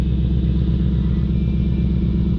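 Deep, throbbing V8 exhaust of a 2021 Ford Mustang Mach 1 with a 6-speed manual, a loud steady rumble with pulsing low beats close by, no voices.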